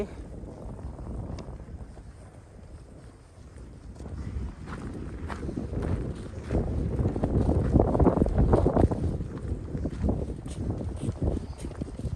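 Cool sea wind blowing at a coastal spot where gulls and ducks are fed, buffeting the microphone in low rumbling gusts that swell and ease over twelve seconds, rising strongest near the eight-second mark.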